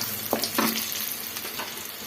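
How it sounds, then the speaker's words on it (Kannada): Cashews and buttermilk chillies crackle in hot oil for coconut rice, a close, busy sizzle with a couple of spoon knocks and stirring scrapes near the start. "ಗೋಡಂಬಿ ಸ್ವಲ್ಪ ಲೇಟಾಗಿ ಸೇರಿಸ್ಕೊಬೇಕು, ಯಾಕಂದರೆ ಅದು ಬೇಗ ಫ್ರೈ ಆಗಿಬಿಡುತ್ತೆ."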